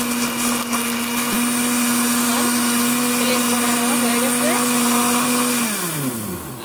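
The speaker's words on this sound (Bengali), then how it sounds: "এখন ব্লেন্ডারে ব্লেন্ড করে নিচ্ছি" A kitchen blender whirs at a steady high pitch while blending cold coffee, a loud, constant motor drone that winds down in pitch as it is switched off at the end.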